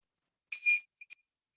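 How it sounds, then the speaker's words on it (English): A small meditation bell rings out to open a walking meditation, one bright clear strike followed by two lighter taps, crisp and close against complete silence. "let's begin now with the sound of a bell"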